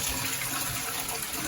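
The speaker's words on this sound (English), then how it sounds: "You get a flush." A dual-flush toilet flushing on its first button, with a steady, loud rush of water filling the whole moment and no voices over it.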